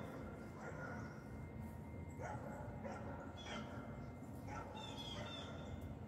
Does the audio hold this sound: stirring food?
no